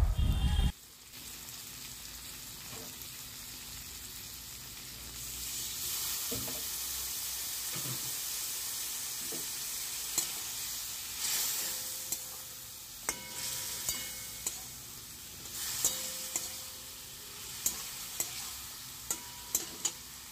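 Spice masala with fennel powder, turmeric and a splash of water fries in a pan for Assam-style fish tenga: a quiet sizzle under repeated sharp taps and scrapes of a spoon stirring, with no talking.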